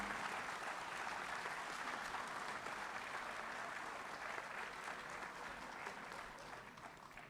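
An audience applauds during a shawl felicitation at an award presentation ceremony, sustained dense clapping from a hall full of people, steady and fairly loud, fading slightly at the end.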